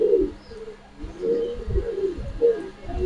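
Racing pigeons, including a white racer, coo in soft repeated low calls close by, with a few faint chirps mixed in and no voices.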